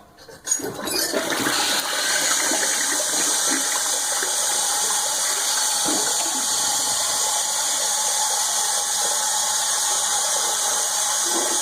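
A toilet flushes after its bowl is cleaned with Fabuloso cleaner: a sudden loud gush of water settles into a steady rushing refill that carries on for many seconds, close by.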